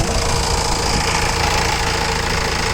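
A 2015 Honda Mobilio's engine idles steadily with a constant low rumble and faint knocking, close up, with no talk.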